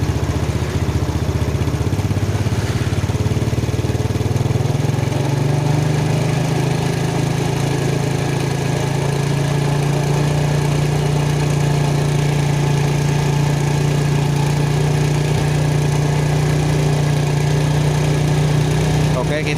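A Yamaha Jupiter Z motorcycle engine idles steadily and loudly up close during carburetor servicing, its pitch shifting slightly as the idle revs are adjusted, with a voice speaking over it.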